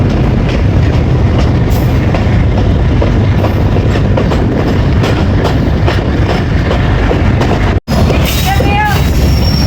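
The 140 Down Sandal Express approaches Sila Wali railway station in Pakistan with a loud, constant rumble and clatter of wheels. There is a brief dropout near the end, then a faint squeal or whistle.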